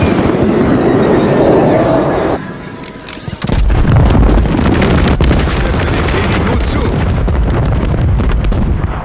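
Heavy booming explosions from a bomber airstrike in Call of Duty: Modern Warfare III pound continuously and loudly, with a brief dip in the middle before a dense barrage of blasts resumes.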